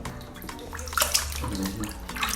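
Water splashes in an uneven, close-up rhythm as a one-month-old baby is bathed, with soft sloshes and drips, and no speech.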